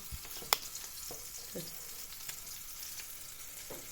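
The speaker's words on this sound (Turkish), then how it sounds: "Benim de yağ erimeye başladı." Fat melting in a frying pan for Turkish mıhlama gives a faint, steady sizzle with a few light clicks and scrapes from the pan, heard close and quiet without speech.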